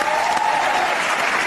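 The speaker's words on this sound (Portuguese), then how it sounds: "Eu preciso pegar, aproveitar essas palmas" Steady applause from a crowd, dense and even throughout, with no voices standing out.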